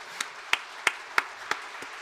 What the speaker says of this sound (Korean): 우리 청년들이 우리 어른 세대에게 건강하시라고 한번 박수 한번 보내겠습니다